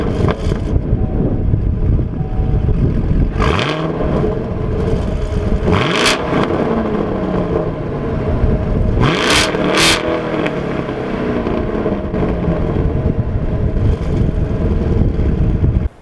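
A 2017 Chevrolet Camaro SS 1LE's NPP quad exhaust roars loudly and steadily, with several sharp throttle blips and revs rising above the continuous engine growl.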